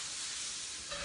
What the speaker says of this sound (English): You hear that sweet sizzle